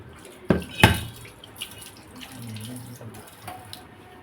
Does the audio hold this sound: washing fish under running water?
yes